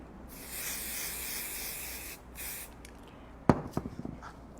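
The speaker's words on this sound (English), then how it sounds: "I'm just going to spray the back of this guy" A steady spray of aerosol adhesive onto the back of quilt batting hisses for a couple of seconds, pauses, then sprays again briefly, followed by a few sharp handling knocks.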